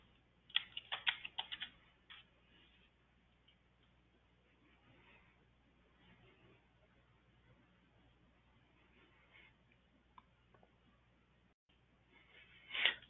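Soft clicking keystrokes on a computer keyboard while entering a report filter in Salesforce, a quick burst near the start, sparse faint taps through the middle and another short flurry at the end, close and quiet with no talking.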